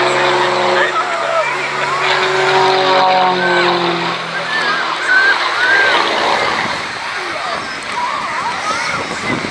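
Aerobatic plane with a Lycoming AEIO 540 engine flying at the Cleethorpes air show, a loud engine drone with rising and falling pitch sweeps as it manoeuvres, under a commentator's voice.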